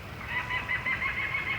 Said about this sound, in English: it's got to be some kind of crane or bird or something